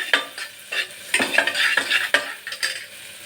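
A grated mixture is stirred in a kadai for baby food, with quick scraping strokes and a soft sizzle repeating close by, moderately loud, with no voices.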